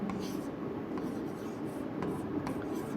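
Writing by hand on paper or a board during a maths lesson, a continuous soft scratching and rubbing of strokes with faint quiet voice in the background.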